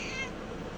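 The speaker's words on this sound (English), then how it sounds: "Now that the cat has been entertained" Domestic cat giving a single short meow indoors, close and clear, fading quickly into quiet room sound.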